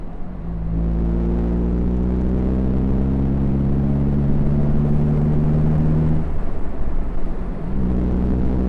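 Exhaust of a 2017 Morgan Plus 4 driving through countryside, a loud close droning growl that rises in pitch, breaks off briefly with a gear change, then settles back to a lower steady note.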